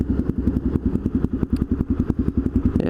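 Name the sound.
Suzuki DRZ400E single-cylinder dirt bike engine running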